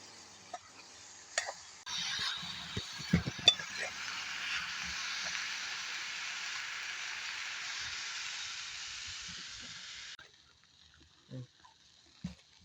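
Turkey berries stir-frying in oil over a village stove give off a steady hiss for about eight seconds, with a few soft knocks from stirring before and after, faint and close.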